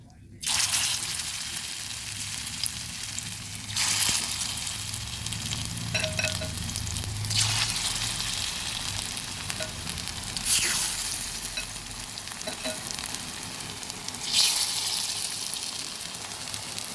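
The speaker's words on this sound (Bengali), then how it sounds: "এবার দ্বিতীয় বেসের পকোড়াগুলোও দিয়ে দেবো সেকেন্ড বেসের গুলো দিয়ে দিচ্ছি" Capsicum pakoras fry in hot oil with a steady, loud sizzle throughout, broken by occasional stirring splashes and bursts as more battered pieces drop in and get turned.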